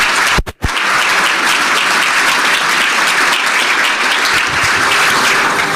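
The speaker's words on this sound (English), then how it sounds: "one more time, a round of applause for General Thompson and Elon Musk" Sustained, dense applause from a large crowd at an Air Force Space Pitch Day event, steady and loud throughout apart from a brief break near the start.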